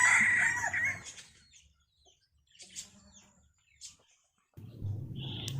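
A decoy rooster crows loudly in a short burst at the start, then a quieter pause follows with faint distant clucks and a brief far crow before more nearby fowl noise, on a cold overcast morning.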